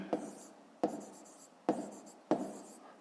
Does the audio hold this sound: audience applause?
no